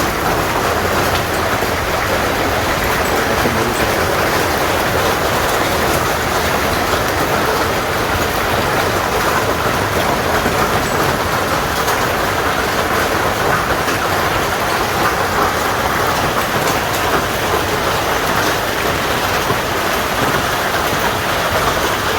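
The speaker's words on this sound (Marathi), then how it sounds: "अचानकच वाघा वाऱ्यासह गारांचा पाऊस सुरू झाल्यानं शेतकऱ्यांची एकच तारांबळ उडाली" Continuous loud rush of wind-driven hail, an unbroken hissing roar that stays constant throughout with no voices.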